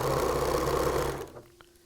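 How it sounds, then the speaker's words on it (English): A sewing machine stitches a seam on a T-shirt quilt with a steady close whir for over a second, then stops and leaves near silence with a faint click. "I'm just letting the machine feed itself."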